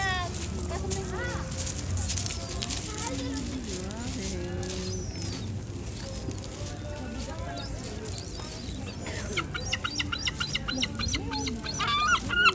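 Seabirds squabble by the sea on a warm day in the UK, with repeated squawks and harsh calls scattered through the clip under steady wind and beach noise as a person talks over them.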